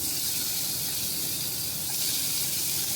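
Tomatoes hitting a hot pan of browned onion as they saute, giving a steady, loud, hissing sizzle that holds unbroken throughout.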